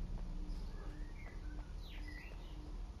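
Birds chirp and tweet in short scattered calls, including a few rising and falling whistled notes, set against a steady low rumbling ambience in the video game Alan Wake Remastered, fairly faint and without speech.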